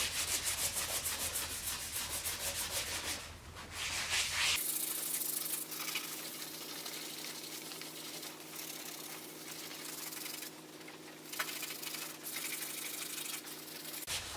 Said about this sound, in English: Abrasive pad, and just start working it.